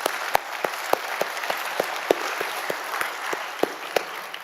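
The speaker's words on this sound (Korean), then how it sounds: "우리 하나님께 영광의 박수 드립니다." Congregation clapping in a live church worship service, a steady rhythmic round of applause with sharp accented claps at a moderate distance and no talking.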